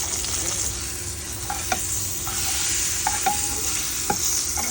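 Pomfret fish frying in a pan at home, a steady hissing sizzle of hot oil with small crackles and occasional light clinks of a utensil, continuous and close, no voices.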